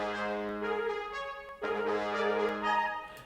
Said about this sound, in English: 2 trills from clarinets and flutes doing major third trills.